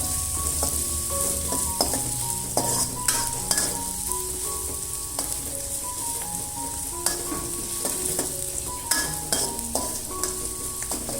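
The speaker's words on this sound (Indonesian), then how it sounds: "Ini akan kita tumis sampai bawangnya berwarna kuning kecoklatan" Minced shallots, garlic and ginger stir-fry in a pan, a constant close sizzle broken by repeated clinks and scrapes of a utensil against the metal.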